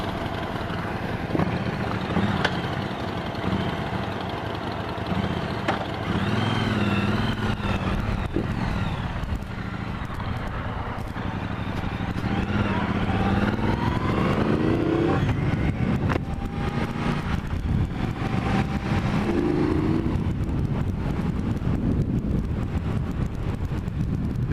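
A Triumph Bobber and a Harley 48, both 1200 cc motorcycles, are ridden with a continuous loud engine drone, heavy wind buffeting and rising and falling revs throughout.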